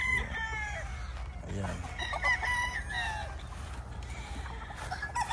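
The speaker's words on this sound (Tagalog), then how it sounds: "Pakita natin yung mga manok niya mga boss" Roosters crow repeatedly on a gamefowl farm, with a few clucks between the calls, while someone talks in the foreground.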